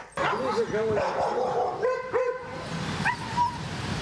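Several service dogs bark and yip over one another, close and loud, with a few higher whining cries mixed in.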